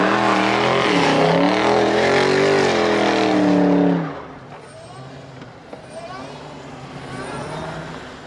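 Dodge Hellcat and Scat Pack cars drifting side by side in snow: loud, near engine roar with rising revs for about four seconds, then dropping to a quieter rumble and fading tire noise, with faint voices underneath.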